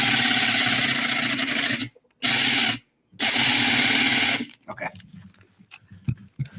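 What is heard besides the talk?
power tool carving a pumpkin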